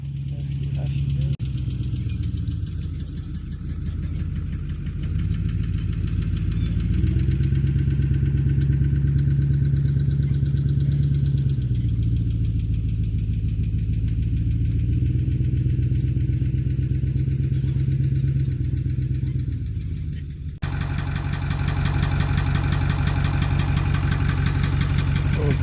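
A DK55 tractor engine labours under load during its first heavy pull while digging a pond, a steady loud diesel drone with low knocking that cuts off abruptly near the end.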